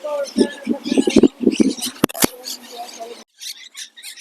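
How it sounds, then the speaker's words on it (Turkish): Green parrots call in a park, with shrill chirps and squawks mixed with a person talking nearby, and a few high calls continuing after the voice stops. "Burada çok tatlı bu e, yeşil yeşil papağanlardan var."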